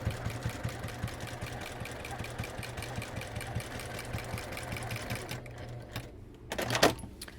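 A sewing machine stitching a quilted pot holder with thick batting, running a steady rapid mechanical chatter at close range before stopping, followed by a brief handling clatter.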